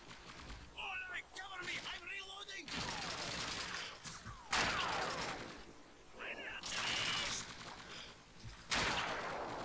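Sharp, isolated sniper rifle cracks in Call of Duty 2, several spaced shots standing out loudly against quieter in-game background noise and talk.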